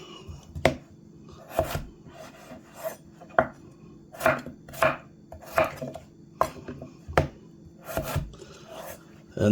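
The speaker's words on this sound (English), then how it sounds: "We're just going to cut these into more manageable pieces for boiling" Knife chopping potatoes on a wooden board, a steady series of sharp, close thunks with brief pauses between cuts.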